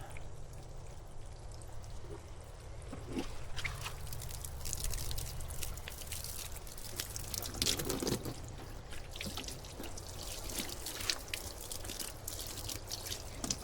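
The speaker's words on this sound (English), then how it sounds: "let's rinse that off again" Water pours and splashes steadily while rinsing bleach cleaner off a John Deere tractor seat, a continuous close trickle and spatter with occasional drips and knocks, no voices.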